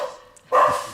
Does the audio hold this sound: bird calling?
no